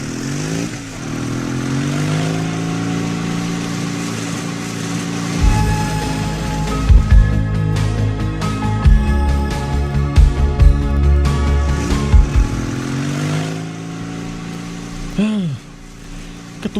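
A motorcycle engine runs steadily while riding, its low drone rising and falling with revs and occasional clattering bumps, loud and close throughout.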